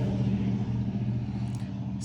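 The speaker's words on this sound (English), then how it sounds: "That was a particularly loud truck that just drove by" A loud truck passes outside, a steady low engine rumble with road noise, brief and continuous.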